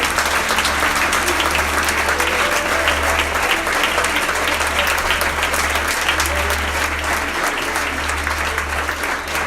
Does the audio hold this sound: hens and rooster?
no